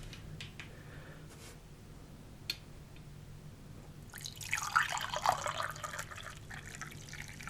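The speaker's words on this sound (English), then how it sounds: "Let me pour my coffee." Hot coffee is poured into a cup, a liquid stream that swells and rises in pitch for about three seconds after a few faint clicks and small taps in a quiet room.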